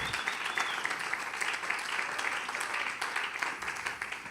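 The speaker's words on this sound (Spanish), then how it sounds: "Dele un aplauso fuerte." A church congregation applauds steadily and loudly throughout, dense crowd clapping filling the space without pause, with faint voices mixed in.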